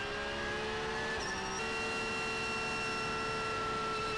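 Race cars at the Nürburgring 24 Hours, a Ferrari and a Porsche running near Schwedenkreuz, give a sustained high engine wail that shifts pitch as they accelerate, loud and unbroken throughout.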